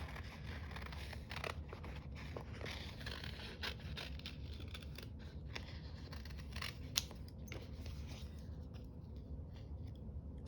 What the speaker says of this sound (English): We could take these blue ones and cut them in half.